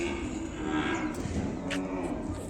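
Ongole cattle moo at the Kodada livestock market, a low drawn-out call heard under market murmur and nearby voices, moderately distant and faint.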